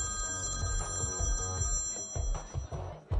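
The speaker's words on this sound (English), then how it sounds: "the phone rang repeatedly" A telephone bell rings repeatedly with steady, bright tones, fairly loud and continuous through the whole stretch with no voices.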